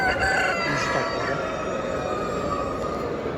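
A Turkish champion Australorp chicken crows loudly and close by, one sustained harmonic call filling the short moment with steady intensity.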